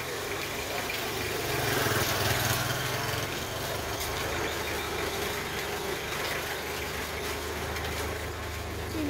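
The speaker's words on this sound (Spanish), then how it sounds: "Ahí viene moto." A motorcycle engine on a street comes closer, its steady, buzzing hum swelling slightly before holding at a moderate distance, with no one talking.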